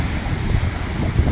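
Calm sea waves wash onto a sandy beach while steady wind rumbles across the microphone, a continuous low roar with gentle surges and no voices.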